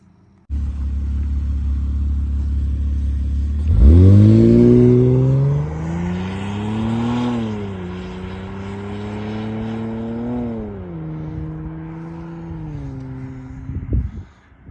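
A 2019 Chevrolet Impala with glass-pack exhaust idles with a low rumble, then revs up sharply and settles into a steady, rising and falling drone before cutting off.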